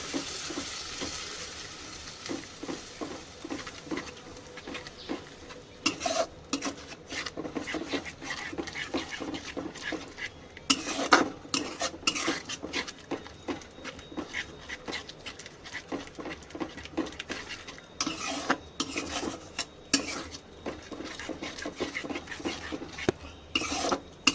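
Mutton keema cooked with yogurt is stirred in a pan, giving repeated scraping and sizzling sounds in an uneven rhythm, close and moderately loud, with no talking.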